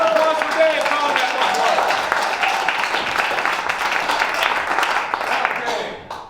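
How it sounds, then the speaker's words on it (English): An audience at an improv comedy show applauds, a sustained wash of clapping mixed with cheering and voices that holds steady, then thins out at the end. "Round of applause for Dave."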